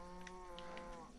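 Minecraft cows moo faintly in a low, drawn-out tone, with a few soft clicks over it, and no one speaks.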